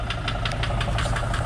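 A 2005 Mercedes Sprinter van idles with an engine knock, a loud, steady, rapid metallic ticking repeating evenly throughout.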